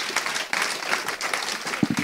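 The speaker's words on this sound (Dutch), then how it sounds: "Een warm applaus graag." An audience at a university discussion event on psychedelics in medical science gives warm applause, busy overlapping clapping that stays steady throughout, with a few louder close claps near the end.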